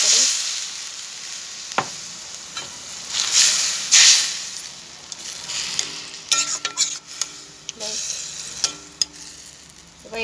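Jute leaves (pat shak) frying in a pan while being stirred: scraping stir strokes and clinks come in bursts over a steady soft sizzle, close and fairly loud.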